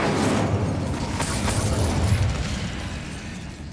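Incendio fire spell cast in Hogwarts Legacy, a loud, dense roaring burst of flame that stays sustained across the whole stretch and eases only slightly toward the end.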